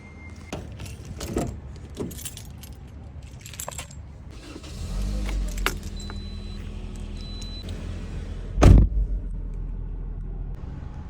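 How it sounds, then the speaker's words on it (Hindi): Road traffic at a city centre signal in Oman: a low, continuous rumble of idling and passing vehicles, with scattered clicks and clatter and one loud, close burst near the end. "आप लोग ट्रैफिक चेक करें"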